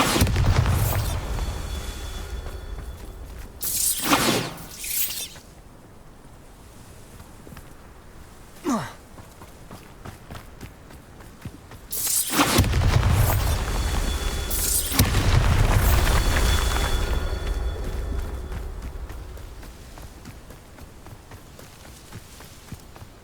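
Bombarda spell blasts in the video game Hogwarts Legacy land as deep booming explosions, two heavy bursts followed by rumbling debris, with quieter footsteps and ambient noise between them.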